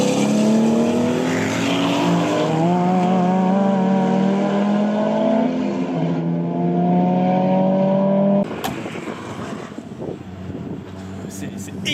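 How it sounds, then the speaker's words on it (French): Porsche lapping a race circuit: a loud, close engine note climbing and dropping through the gears for about eight seconds, then a sudden shift to a rougher, quieter rumble. "Sylvain enchaîne les tours dans la Porsche"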